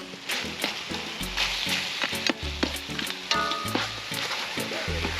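Oxtail cooking in a pot over an outdoor wood fire cook pit, a crackling sizzle with repeated knocks and clanks of stirring against the pot, close and busy, no speech.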